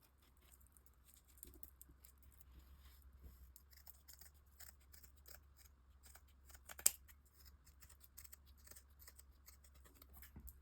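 Scissors cutting paper shapes for a decorative mosaic plate project, heard as faint, rapid snipping and rustling over a steady low hum, with one sharper snip standing out midway.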